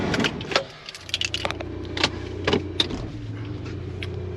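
A car being moved, with keys jangling, clicks and door handling close by, then an engine starting into a low steady idle hum that carries on underneath.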